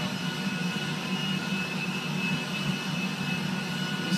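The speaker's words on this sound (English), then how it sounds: "I hate driving jumbo jets." Jumbo jet engines in GTA 5, a steady, loud turbine roar with a constant whine that holds unbroken and does not rise or fade.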